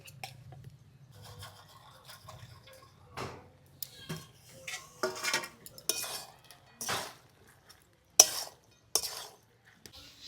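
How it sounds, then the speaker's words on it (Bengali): Fried prawns are stirred into a cabbage curry in a pot, making scraping and clinking spoon-on-metal sounds in irregular bursts over a quiet background with a faint low hum at first. "এবার ভেজে রাখা চিংড়ি মাছটা দিয়ে দেবো"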